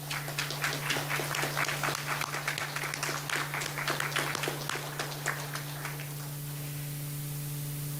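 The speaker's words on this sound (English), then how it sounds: "Could we please offer a round of applause for John Stinson's service?" A gathering honouring local veterans applauds a veteran's service, scattered claps at moderate distance over a steady electrical hum, thinning out and fading after about six seconds.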